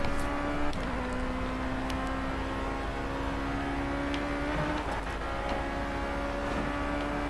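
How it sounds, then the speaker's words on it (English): A Project CARS race car's engine whines at a near-steady pitch, then wavers and lurches as the car nearly spins out, with brief scuffing bursts over the constant loud drone. "Oh, I felt the car about to sort of spin away from me there."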